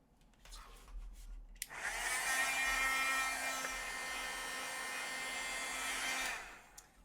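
Heat tool melting embossing powder on stenciled polka dots, a steady whooshing blower hum that switches on after a quiet moment, runs evenly for several seconds, then cuts off.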